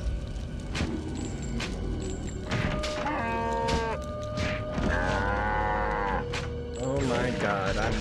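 A cow moos inside the video game TimeSplitters 3, with several drawn-out, wavering calls over a busy backdrop of game music and effects.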